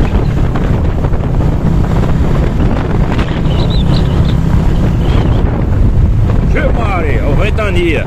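Strong wind gusts batter the microphone on a deserted town street on a Sunday, producing a loud, continuous roar, with a voice speaking briefly near the end.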